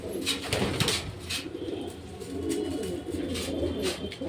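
Cooing of a pair of pigeons, the kind kept by hobbyists for breeding, repeats in soft low rounds through the clip, with a few brief wing flaps close by.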